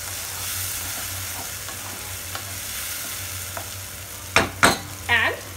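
Yogurt mixture is stirred into frying chicken curry in a pan, with a low steady sizzle and a few sharp scraping strokes of the spoon toward the end.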